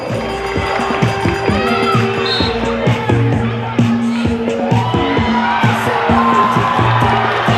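Loud, steady roar of a roller derby crowd at a Boston season championship bout, with shouts and cheers rising over a dense murmur throughout, amid the hollow echo of a large indoor venue.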